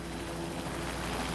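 A helicopter hovers over the ocean during the Apollo 11 splashdown recovery, its rotor and engine noise a dense, steady, broadband roar with a faint rhythmic pulse, heard alone and at low level.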